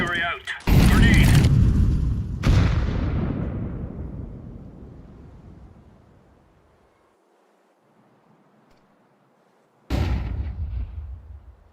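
Incendiary grenade in Counter-Strike 2, loud whooshing roaring bursts that fade over several seconds into near silence before another loud burst returns.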